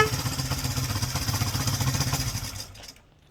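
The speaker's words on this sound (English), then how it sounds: "when an H2 750 rumbles to life" Kawasaki H2 750 two-stroke triple motorcycle engine running loud and close, a steady raspy rumble that holds for almost three seconds and then cuts off into near silence.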